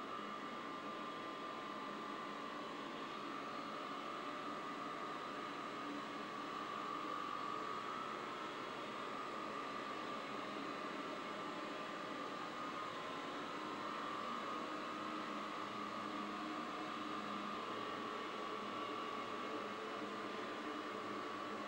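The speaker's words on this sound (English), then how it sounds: "getting noisier as we're getting up near to the top of the tower and near the engines" Steady broadband machinery drone from engines near the top of the Eddystone Lighthouse tower, a continuous even hum with a faint tonal whine, constant in level throughout with no voices.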